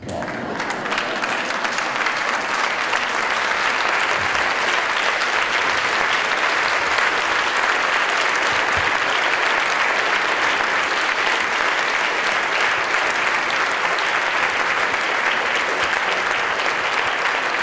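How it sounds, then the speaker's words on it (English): An audience at a keynote talk on EFT tapping breaks into sustained applause, a dense, loud wash of clapping that holds steady for many seconds with no speech over it. "inviting the audience to stand in applause"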